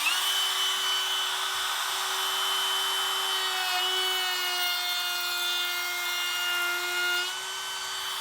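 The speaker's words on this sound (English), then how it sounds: "I've got the chamfer bit in the router, and now I'll make one real-time cut from here to here" A RIDGID cordless router with a chamfer bit cuts along a wood board, giving off a close, high, steady motor whine. The pitch sags slightly under load and then eases near the end of the pass.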